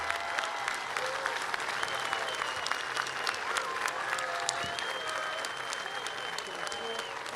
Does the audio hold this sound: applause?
yes